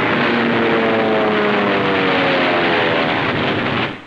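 A military propeller aircraft flies during the World War II fighting at Tarawa, its engines a loud, steady droning roar throughout that fades slightly at the end.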